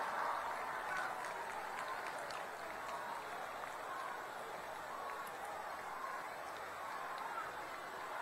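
Faint, distant applause from a large crowd at a Prime Minister Narendra Modi event in Khanapara, a steady wash of clapping throughout.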